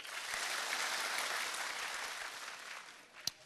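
A concert audience claps steadily for a contestant during the final vote of the Carabao Concert's Dream Come True round, a dense wash of applause filling the whole stretch and easing slightly before one sharp snap near the end.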